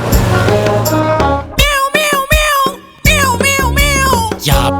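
A voice mimics a cat's meows within a children's song, with several loud, bending meow-like calls over backing music and short pauses between them.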